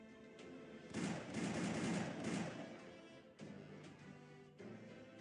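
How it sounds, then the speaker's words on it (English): An Arknights revolver firing six bullets at once, a loud blast that builds into a rolling burst of about two seconds, then two fainter impacts, with no voices. "Six bullets shoot out of her revolver at once."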